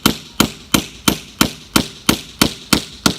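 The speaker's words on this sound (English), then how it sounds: "I'm just tapping until I start to see a little crevice in the rock" A hammer taps flagstone to chip it, ten sharp, evenly spaced knocks in a steady rhythm, close and clear with no talking.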